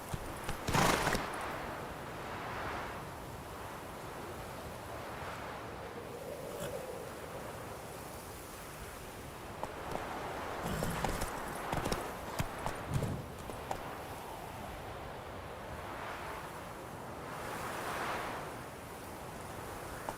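Horse hooves clip-clop at a steady gait under a rider in The Witcher 3, with an occasional whinny and a wash of ambient surf or water noise behind, moderately loud throughout.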